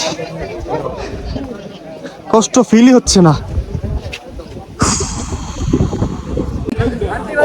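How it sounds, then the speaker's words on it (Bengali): Gusty wind roars across the microphone on the top of Konglak hill in Sajek Valley, rising sharply partway through, while a person talks close by. "আর যে কি বাতাস"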